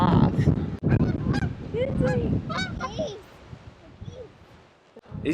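Geese honk repeatedly at close range, a noisy cluster of calls over outdoor rumble, fading toward the end.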